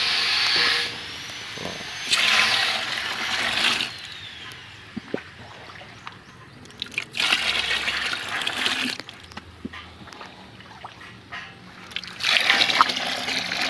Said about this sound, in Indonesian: Kemudian kita tambahkan air biasa atau air yang dari kolam.